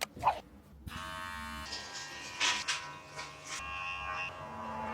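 A KAI Grooming electric body-hair trimmer runs with a steady close buzz for the whole stretch, with brief handling knocks and shifts in pitch as it is moved.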